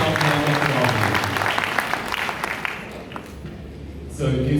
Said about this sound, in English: Ladies and gentlemen, the magic applause, yes.